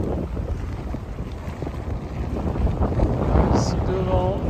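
Sailboat beating close-hauled under genoa alone in gusty wind off the Greek Sporades, with steady broadband wind and water rush filling the mic and a brief voice near the end.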